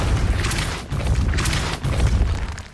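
The Depulso spell effect from the video game Hogwarts Legacy bursts out in three loud, whooshing blasts with booming low ends, each swelling and fading in quick succession.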